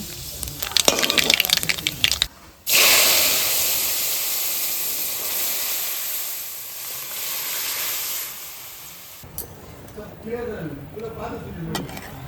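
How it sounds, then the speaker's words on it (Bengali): Red chillies and nigella seeds hit hot oil with a sudden loud hiss that fades slowly into a softer sizzle, with a person talking briefly before and after. "এই চারটে লঙ্কা আমি ফোড়ন দিয়ে দিচ্ছি এই কালো জিরাটা আমি ফোড়ন দিয়ে দিচ্ছি"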